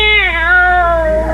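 A single close, loud cat meow, drawn out and falling in pitch over about a second, stands alone in an old-time radio comedy broadcast.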